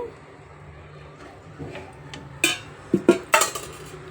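A kadai set down on a stove, with several metallic clanks and clinks of the pan and utensils close by, the strikes clustered near the end.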